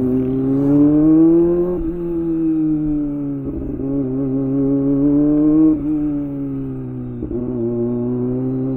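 Kawasaki Ninja ZX25R motorcycle engine droning loud and steady while riding, its high-revving note rising and dipping slightly through repeated gear changes, with no talking over it.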